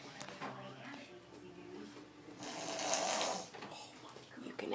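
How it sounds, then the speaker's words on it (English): A dog lying face-down while taking in a little water snores in slow, rough, rattling breaths at close range, with a louder burst near the middle and people talking quietly over it. "You can actually hear her snoring."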